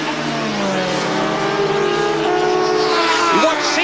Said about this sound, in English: Dixon cuts across Morrison and takes the lead